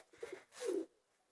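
A pigeon at a loft gives a few soft, close coos, a short stuttering call followed by a longer drawn-out coo, then quiet.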